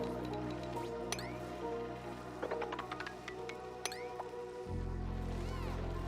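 Spilled water dripping in Oxygen Not Included, a series of small separate drips falling at an uneven pace over a steady low background hum.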